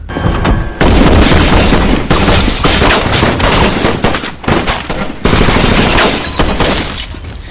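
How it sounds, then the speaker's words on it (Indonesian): A film shootout erupts in loud, dense gunfire, with rapid automatic bursts and booming shots overlapping almost continuously. The volley breaks off briefly a couple of times before resuming. "Kenapa mereka menembak di depan para warga sipil?"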